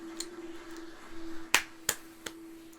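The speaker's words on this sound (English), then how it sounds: "Clapping myself." Three sharp, isolated claps from a single person, spaced unevenly over about a second and close to the microphone, against a quiet room with a faint steady hum.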